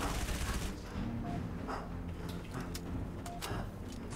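Rapid bursts of gunfire from many enemies in the Halo 3: ODST video game, close and sustained with sharp, repeated cracks layered over constant combat noise.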